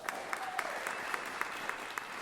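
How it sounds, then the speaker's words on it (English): An audience claps for a volunteer at a live comedy and variety show, a steady patter of applause at moderate distance with a few sharper individual claps. "Give her some applause."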